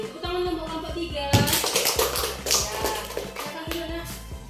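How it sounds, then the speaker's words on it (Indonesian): A classroom of children bursts into applause for a student group after their presentation, with dense, steady clapping starting suddenly partway through and continuing to the end, fairly close and lively. "Tepuk tangan dong buat kelompok 3"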